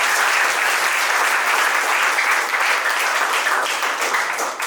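Dense, steady audience applause at a Deepam charitable trust event during a motivational speech by actor Dhamu, a loud, close crowd clapping continuously and tailing off slightly at the end.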